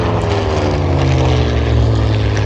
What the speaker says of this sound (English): As the PR flies over, folks, we've got Andy Love.